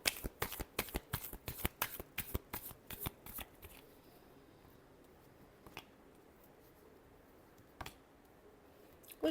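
Tarot cards are shuffled up close in a quick run of crisp riffling slaps for several seconds, then quiet with a couple of isolated card taps.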